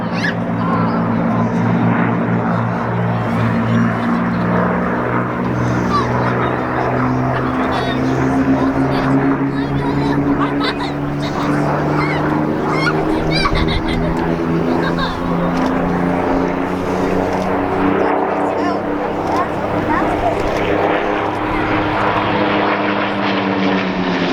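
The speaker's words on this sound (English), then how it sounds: "Both aircraft have the later two-stage supercharged Merlin 60 series." Two WWII fighters, a P-51 Mustang with a Packard-built Merlin and a Spitfire with a Rolls-Royce Merlin, both two-stage supercharged 60 series, fly past at an air show; a loud, steady piston-engine drone with shifting propeller pitch fills the whole stretch.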